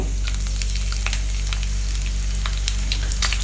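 Green chillies fry in hot oil for a Bengali vegetable dish, giving a steady, close crackling sizzle with scattered sharp pops throughout.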